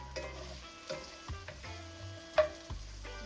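Garlic, ginger, thyme and tomato fry in a hot pan, a quiet steady sizzle marked by a few soft stirring knocks and one sharper clatter.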